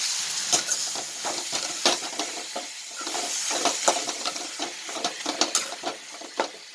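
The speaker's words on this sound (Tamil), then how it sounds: "தக்காளி நல்லா சுருளாக வதங்கணும்" Chopped tomatoes sautéing in a pan for anchovy dry-fish thokku, a steady close sizzle broken by scraping stirs, fairly loud and with no voices.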